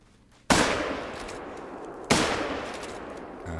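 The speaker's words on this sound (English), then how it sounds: "I'll go for a safe lung shot" A hunting rifle fires twice at a reindeer in the video game theHunter: Call of the Wild, two sharp loud cracks about a second and a half apart, each trailing off in a long rolling echo.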